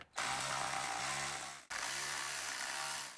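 Ratchet wrench loosening 10 mm transmission pan bolts on a 2003-2009 Toyota Camry, a steady loud mechanical whirring clatter that breaks off once before resuming, close up with no talking.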